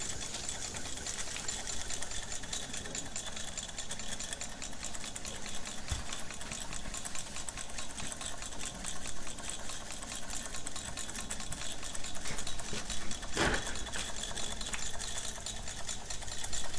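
Raab hot air engine running on a gas burner, a rapid, even mechanical ticking and chattering with a steady hiss, faint and continuous with a brief knock midway, no talk.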